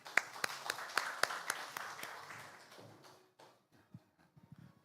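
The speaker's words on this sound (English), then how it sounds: "Please welcome him with a big round of applause." An audience at a Seoul conference applauding to welcome a speaker to the stage: scattered claps fading out over a few seconds, leaving faint thumps and shuffling at the end, moderately distant, with no talking.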